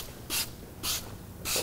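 A trigger sprayer mists detailing product onto a Mazda MX-5 Miata RF during a car detail, three short crisp hissing bursts at an even rhythm, close and clear with no talking.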